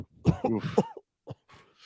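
A person clears their throat close up with a rough guttural rasp, followed by a couple of short quieter huffs.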